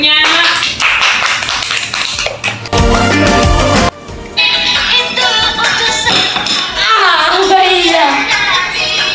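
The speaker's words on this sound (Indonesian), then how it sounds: "Oke, tepuk tangan cucunya." Children clap their hands in a classroom, bursts of fast applause that rise and drop off, mixed with someone speaking and adult talk in between.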